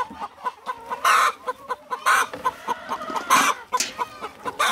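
Pasture-raised hens clucking and squawking inside a henhouse on a winter day, a busy flock with repeated loud cackles and bursts of agitated calls close by, no talking.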